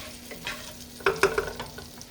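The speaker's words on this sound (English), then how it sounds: "Gonna add me some onions, okay?" Diced onion sizzles in melted butter in a pan while being stirred, a soft hiss broken by a small cluster of utensil clinks in the middle, close and fairly quiet with nobody talking.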